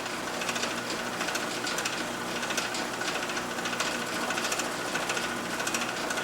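A machine tool takes a ten-thousandths cut on a metal part for a protractor fine-adjustment gear. It makes a steady, harsh, gritty cutting whir with a faint rhythmic pulse that runs without a break throughout, with no speech.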